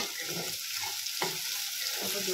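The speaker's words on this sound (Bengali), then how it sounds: "টমেটোটা একটু ফ্রাই হোক" Tomatoes fry in a pan for suji upma, a steady soft sizzle with a few stirring scrapes and one sharp clink, fairly quiet and close, with no talking.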